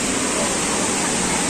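Tirathgarh waterfall near Jagdalpur, Chhattisgarh, its water rushing over rocks as a steady, dense, broadband roar that fills the whole moment without a break.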